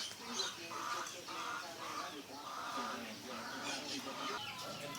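Several native chickens cluck and cackle nearby in overlapping bursts, a busy, steady flock chatter.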